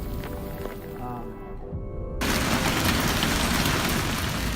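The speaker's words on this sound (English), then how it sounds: "Large white hailstones kept pounding the road, creating non-stop crashing sounds." Large, golf ball size white hailstones pound a road in a loud, continuous roar that surges in abruptly after a quieter stretch with a voice speaking.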